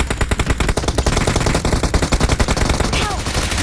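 Rapid gunfire in the PUBG Mobile battle game: dense, continuous bursts of close, loud shots with a sharp repeating rhythm throughout, over a steady game background.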